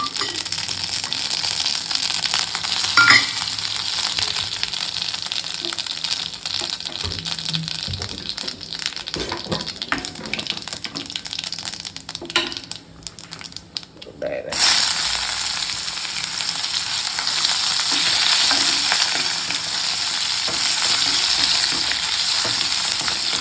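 Oil sizzles steadily in a pan for spicy garlic brinjal curry, a continuous bright frying hiss with occasional stirring scrapes; it briefly quiets midway, then returns loud and sustained, with no talking.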